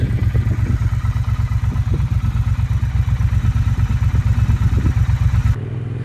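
A Triumph T120 motorcycle idles through its exhaust pipes with a loud, steady, pulsing low thump and mechanical clatter, close by, then drops abruptly near the end.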